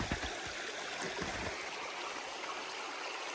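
Mountain creek water rushes steadily through a forested hiking trail in Headwaters State Forest, North Carolina, a continuous close, broadband flowing wash with no voices.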